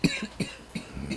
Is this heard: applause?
no